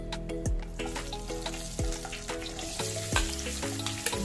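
Green chillies fry in hot oil with cloves, cardamom, cinnamon and bay leaf for egg biryani. A close, continuous sizzle runs throughout, with a few sharp spatter pops and no speech.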